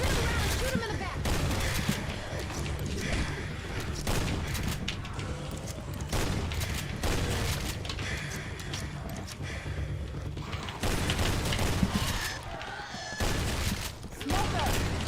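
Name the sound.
gunfire in the video game Left 4 Dead 2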